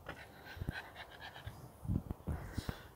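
A dog panting and whimpering inside a car, with quick close breaths, small whines and a few soft thumps of movement in a quiet cabin.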